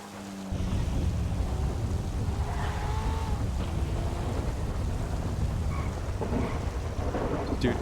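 Heavy rain pours continuously alongside a deep rolling rumble of thunder in a GTA roleplay game, loud and sustained after a brief quieter start.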